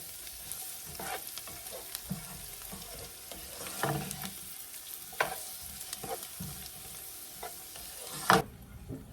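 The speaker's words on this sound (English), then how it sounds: "we're gonna get that stirring in there." Peppers frying in a pan hiss with a steady sizzle while a utensil stirs them, scraping and knocking at irregular intervals close by, with no one speaking.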